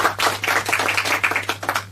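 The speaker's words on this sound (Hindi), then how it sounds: "एक बार जोरदार ताली हो जाए हमारे 6 कंटेस्टेंट्स के लिए" A quiz show audience claps hard for six contestants, with dense, uneven clapping at close range over a constant low hum.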